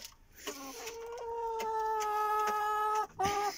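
A giant Carioco rooster of improved breed gives a drawn-out, tonal clucking call close by, holding steady for about two and a half seconds before breaking off into a short final cluck.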